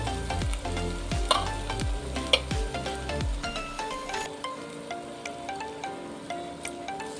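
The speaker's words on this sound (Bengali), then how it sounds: "এটাকে ভালো করে আবার কষি নিয়ে" Eggplant curry for a vegetarian oil-brinjal dish sizzles in a pan while a spatula scrapes and turns it in a run of quick strokes, then the frying carries on steadily alone.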